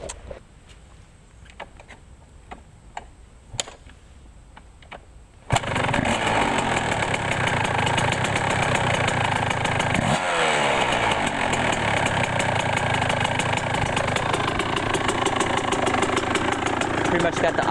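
A 1999 Yamaha YZ125 two-stroke dirt bike kicks over after a few faint clicks, then fires up into a loud, close, raspy idle that runs steadily to the end.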